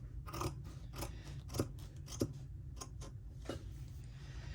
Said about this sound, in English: All right, ye old fabric scissors.